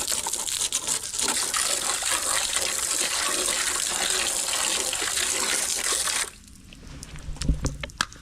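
Water gushes steadily from a hose onto a pool skimmer basket being rinsed, a loud continuous splashing spray that cuts off abruptly near the end, leaving a few soft knocks and handling sounds.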